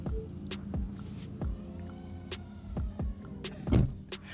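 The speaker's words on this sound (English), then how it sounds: "All right, door down test." A car's power tailgate lowers and shuts, with motor whirring and several ticking clicks over a few seconds, ending in a firmer latch thump near the close.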